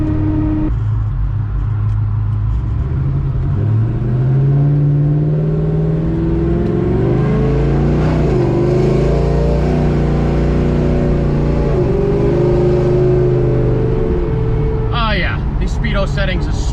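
A 1970 Chevelle with a supercharged LSA engine pulls under hard throttle, a loud, close, sustained drone whose pitch climbs as boost builds, then eases and rises again, with a faint whistle near the end.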